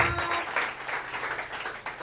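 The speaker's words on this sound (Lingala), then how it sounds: "Acclamez très fort pour la gloire de Dieu" A congregation applauds during a church worship service, with a short burst of scattered hand claps that sounds fairly distant and soft.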